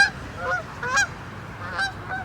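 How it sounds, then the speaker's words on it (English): A flock of Canada geese honks in short nasal calls while flying over, a few spaced bursts at moderate distance, on a June evening, with no talking. "Here's a flock of Canada geese flying over."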